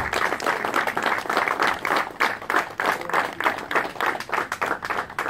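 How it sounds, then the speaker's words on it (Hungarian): Wedding guests at a Hungarian bride-fetching ceremony clap for the bride, a brisk, fairly even burst of handclaps from a small crowd lasting several seconds, close by and with no talk. "Nagy tapsot a mennyasszonynak, kedves vendégek!"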